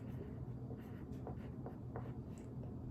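Pencil or pen scratching out a handwritten sentence during a reading and spelling lesson, a run of short strokes and taps under steady low room hum, with no talking.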